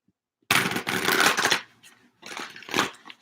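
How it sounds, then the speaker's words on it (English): Tarot cards being shuffled during a live reading, two bursts of riffling and flicking close up, a long first shuffle and then a shorter one after a brief pause. "One more shuffle."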